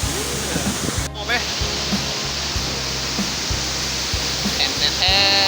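A waterfall near Ban Tham, Naxaithong, Vientiane, rushes in a loud, steady roar, with a person speaking briefly over it.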